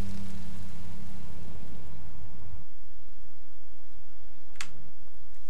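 Rain falling in the Minecraft Story Mode video game, a dense steady hiss of drops under a low rumble that cuts out partway through, followed by a brief sharp click.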